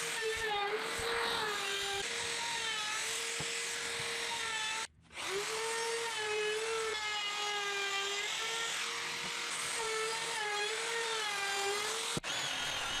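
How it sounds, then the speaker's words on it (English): A router fitted with a 1/2 inch roundover bit shapes wooden boards for a baby's bed, a loud, continuous high-pitched motor whine that cuts out for a moment midway and then resumes steadily. "After I make sure they fit, I'll start routing them."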